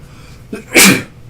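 A single loud, close sneeze, with a brief sharp inhale just before the forceful burst, in an otherwise quiet room.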